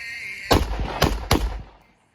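Three loud, sharp unsuppressed 5.56 rifle shots from a 14.5-inch barrel crack out at an even pace, each followed by a short echoing tail that fades to silence.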